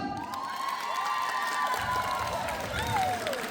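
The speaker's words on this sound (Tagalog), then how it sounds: "Marami ang pumalakpak." A casino crowd at a live show in Cebu cheers and claps for a dance contestant, a steady wash of applause and shouts with whistling tones, while a host's voice carries over the noise.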